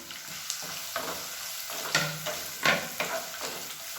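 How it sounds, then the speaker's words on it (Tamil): Finely chopped large onions fry in a pan, a quiet steady sizzle broken by several soft scraping stirs at irregular intervals. "வெங்காயம் நல்லா சிவந்து வதங்கிடுச்சு."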